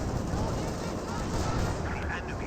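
Anti-tank gunfire pounding a Panzer IV in Company of Heroes 2, a dense, continuous wash of artillery and gun blasts with heavy battle noise throughout, under commentary.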